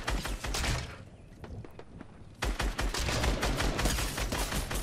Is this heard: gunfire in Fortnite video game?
yes